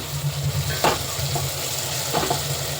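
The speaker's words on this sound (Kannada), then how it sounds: "ಇದು ಸ್ವಲ್ಪ ಬಾಡ್ಸೋಣ ಚೆನ್ನಾಗಿ ಈರುಳ್ಳಿ ಎಲ್ಲ ಚೆನ್ನಾಗಿ ಸಾಫ್ಟ್ ಆಗಿದೆ" Onions and tomato sautéing in a pan for chicken biryani, a steady close sizzle with a few louder scraping stirs of a spoon, no talking.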